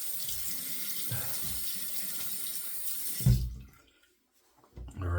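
Water runs steadily from a bathroom tap for wetting the face before a shave, with splashing bursts as hands scoop it, then it stops and quiet follows before soft handling noises.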